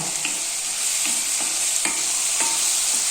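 An onion and tomato vegetable salna cooking in a pan and being stirred: a steady bright sizzle with a few distinct spatula scrapes and taps against the pan, no speech.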